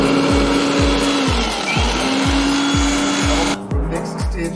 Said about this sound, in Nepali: अबको नेक्स्ट स्टेप हामीले यसलाई मिक्सर ग्राइन्डरमा राखेर